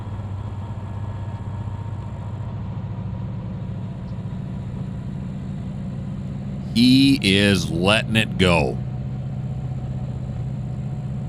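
Diesel locomotive engine running in notch 8 in Trainz 2022, a steady loud low rumble throughout, with a voice briefly talking over it in the middle.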